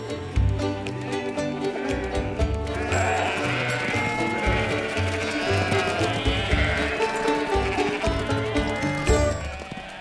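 Many sheep bleat loudly and almost nonstop at a traditional gathering of wild sheep in the UK, their overlapping calls crowding together close at hand.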